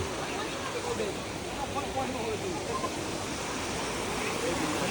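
Steady rushing water fills the clip, a broad constant wash of a mountain stream flowing over rocks at the foot of Girnar, with faint voices blended into the background.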